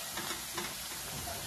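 Potato pieces frying in hot oil for sabudana khichdi: a steady, even sizzle and hiss, fairly quiet and continuous, with no talking.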